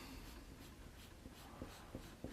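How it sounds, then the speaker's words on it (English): A paper stomp rubs across a pencil drawing of a rose in soft, repeated scratchy strokes, faint and close over a steady hiss, with a few slightly sharper taps near the end and no voices. "I'll use my paper stomp here"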